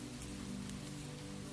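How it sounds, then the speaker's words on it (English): Soft rain against a window, a faint, even patter with a low steady hum beneath, continuous and calm with no voices. "Outside, rain traced the window."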